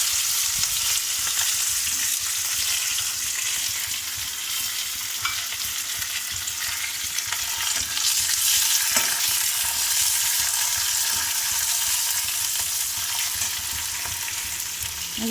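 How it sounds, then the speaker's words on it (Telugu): Onions, green chilies and curry leaves fry in hot oil in a pan, giving a steady, dense sizzle that crackles continuously and close up without any talking. "ఆనియన్స్, పచ్చిమిర్చి, కరివేపాకు వేసేసుకుందాము."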